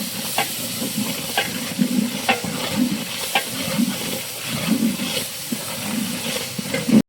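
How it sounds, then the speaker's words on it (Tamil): A ladle stirs ginger garlic paste frying in a large beef biryani pot, steady sizzling with rhythmic scraping strokes repeating about every second, close up and without speech. "அப்படியே பொறுமையாக கரண்டியை பிடிச்சி மிதமாக அப்படியே மிக்ஸ் பண்ணுங்கள்."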